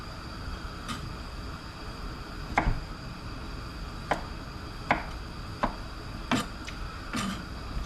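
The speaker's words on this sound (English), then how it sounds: "We can go ahead and slice that up." Knife cutting through leftover Boston butt pork on a board, a series of separate sharp chops and taps at irregular intervals, fairly close, over a steady low background hum.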